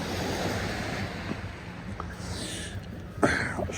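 Waves breaking on Weymouth Beach, a steady wash of surf with wind noise buffeting the microphone and a brief louder splash near the end.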